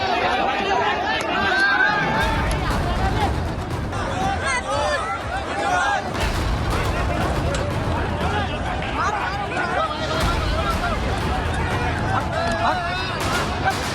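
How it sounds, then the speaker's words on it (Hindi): Crowd stampede at an Owaisi (AIMIM) political rally during a police baton charge, with dense, continuous shouting and babble from many people, loud and close, plus bursts of commotion as people run and push. "लोग भाग रहे हैं, एक दूसरे को धक्का दे रहे हैं, पुलिस की लाठियों से बचने की कोशिश कर रहे हैं।"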